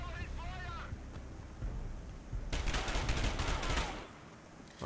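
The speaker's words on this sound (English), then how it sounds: "He just shot the dude." Gunfire in the video game Dark Sector: a dense burst of rapid shots crackles for about a second and a half, loud against a rumbling background, after a brief bit of game voice.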